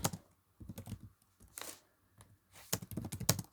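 Fast typing on a computer keyboard comes in bursts of close, crisp key clicks separated by short pauses, with no talking.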